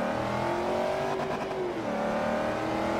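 A race car engine in Forza Motorsport 3 revs hard and continuously, its pitch rising and falling through a gear change, loud and steady throughout; no talking.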